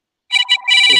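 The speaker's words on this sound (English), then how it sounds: "Can you guys hear ringing?" A phone ringing nearby, two short bright electronic trills followed by a longer sustained ring, clear and loud against a silent background.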